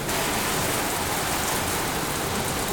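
Running water rinses Xbox controllers dipped in a rinse tank, a steady broadband spray-like hiss that continues unbroken and fairly loud throughout.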